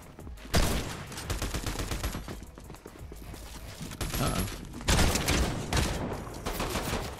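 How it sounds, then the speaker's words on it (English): Rapid bursts of drum gun fire in a video game, loud repeated automatic volleys in several strings, with mechanical clatter between them. "this drum gun's so good"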